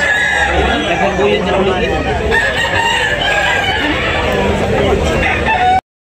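Roosters crow amid constant clucking and the chatter of a busy chicken market in Tabunok, Talisay, with overlapping birds and people talking throughout the dense, loud scene.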